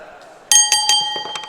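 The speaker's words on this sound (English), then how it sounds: "Bell rings, here we go, Omari and Jay Joshua" A wrestling ring bell is struck several times in quick succession to start a match at a pro wrestling show, ringing loud and bright with sustained metallic tones.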